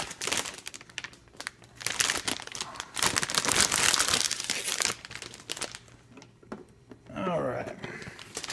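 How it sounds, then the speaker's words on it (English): Crinkly plastic packaging rustles and crackles loudly and close as an Asus motherboard is pulled out, in irregular bursts with quieter pauses between. "Let's take this out of the packaging."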